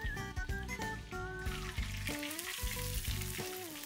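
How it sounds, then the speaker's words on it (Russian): Oil sizzles and crackles steadily as a breaded pork cutlet for tonkatsu fries in a pan, with melodic background music playing over the frying throughout. "аккуратно от себя кладем подготовленную отбивную жариться"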